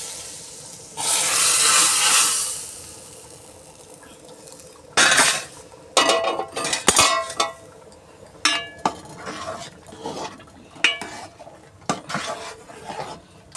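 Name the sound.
fried tempering added from a tadka pan into a cooking pot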